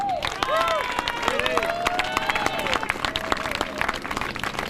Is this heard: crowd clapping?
yes